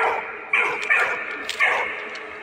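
A dog barks in the World War I video game Valiant Hearts, three short, clear woofs spaced about half a second apart over a faint background hum.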